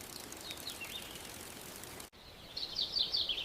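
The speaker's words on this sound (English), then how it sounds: "I am listening to the birds now." Birds chirp and trill near a lake by rice fields and mountains, thin calls fading in and out over a steady outdoor hiss, growing busier and louder after a brief cut.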